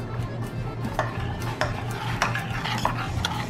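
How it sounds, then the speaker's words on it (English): Cake pop mixture with a squirt of vanilla being stirred in a pan, giving soft scraping and light clinks at irregular intervals over a low background hum. "So now you mix it around."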